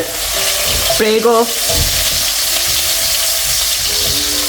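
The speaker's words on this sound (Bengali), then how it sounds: "প্রথমে তেল গরম করলো তেলের মধ্যে এখন হচ্ছে রসুন দিয়ে দিয়েছে" Garlic sizzles and crackles in hot oil for an Italian seafood pasta with octopus and clams, a steady close fry with a brief clatter of utensils partway through and no speech.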